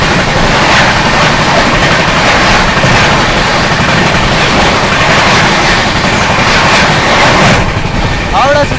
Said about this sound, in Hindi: हावड़ा नई दिल्ली राजधानी एक्सप्रेस।